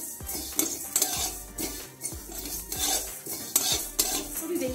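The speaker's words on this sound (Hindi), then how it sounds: "तो हल्का सा इनको फ्राई कर लूंगी" Whole spices are lightly fried in a pan for a Bengali shukto while a spoon scrapes and stirs in steady, repeated strokes over a faint sizzle.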